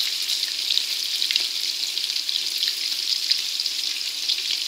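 Meatballs made from two meats fry in a pan with a steady, even sizzle that continues unbroken, with no talking.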